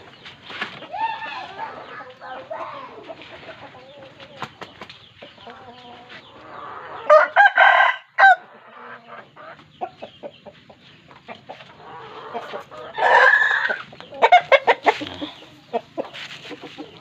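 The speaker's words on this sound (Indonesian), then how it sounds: "Satu ayam jago di dalam, satu lagi ayam jagonya di luar." Roosters in and around a large coop crow and cluck repeatedly, with several loud drawn-out crows rising over softer ongoing clucking and scattered bird noise, fairly close.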